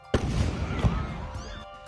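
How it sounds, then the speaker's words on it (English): A loud sharp bang bursts from a high school homecoming bonfire in Florida as it is lit, followed by a brief rumbling tail and crackle. "this Florida high school's annual homecoming bonfire started off with a literal bang"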